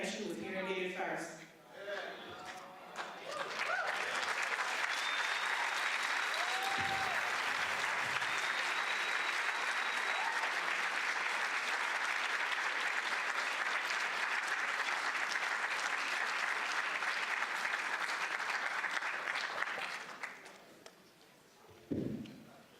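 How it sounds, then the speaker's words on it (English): A conference audience at a Nashville gathering on African American history and culture breaks into loud, sustained applause, a dense wash of clapping that swells after brief talk, holds steady for about fifteen seconds, then fades as a voice returns. "Let's give Ms. Jones another round of applause."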